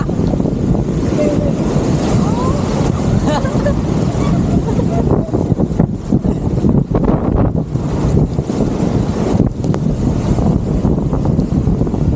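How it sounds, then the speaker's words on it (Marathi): Loud surf crashes and roars at Dahanu beach, with heavy wind buffeting the microphone and people's voices mixed into the rush. "बापरे लाटा बघ"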